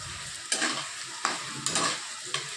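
Spice paste frying in hot oil with a steady close sizzle, broken by four sharp scrapes of a spoon stirring it around the pan.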